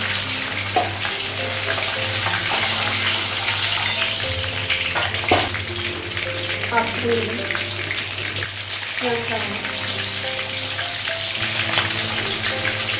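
Fish frying in a home kitchen pan, with a continuous close sizzle under intermittent voices and a few scrapes and clinks of stirring.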